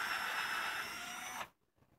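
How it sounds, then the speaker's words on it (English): A power drill bores a hole into heavy Oklahoma clay garden soil, a steady whirring drone that runs for about a second and a half close by, then cuts off abruptly into near silence. "Get a drill and a bit like that."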